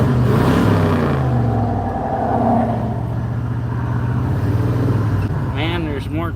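A 1976 Ford truck fitted with 35-inch mud tires, its engine droning steadily while driving, a loud continuous low rumble from inside the cab with a whine rising near the end.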